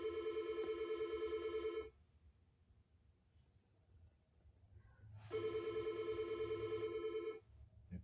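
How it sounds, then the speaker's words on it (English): Telephone ringing in a sign-lettering workspace, two long electronic rings separated by a pause, clear and moderately loud over faint room noise. "That phone call is somebody trying to get a hold of little old me."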